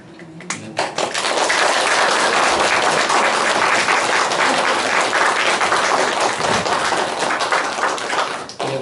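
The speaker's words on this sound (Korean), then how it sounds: "우리 뜨거운 사랑의 박수로 맞이해" A church congregation at a Sunday worship service applauds to welcome a visiting missionary speaker: loud, dense, sustained clapping from many hands that swells quickly and holds steady before easing off.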